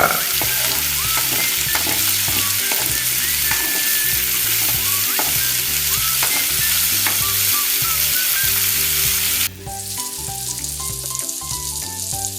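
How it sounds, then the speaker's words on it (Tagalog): Cotton fruit cooking in a pan is stirred continuously, a close, loud sizzle with rhythmic scraping strokes of the spoon that carry on throughout, briefly shifting in tone near the end. "after natin haluin ito pag okay na, siyempre maglalagay tayo ng ating gata"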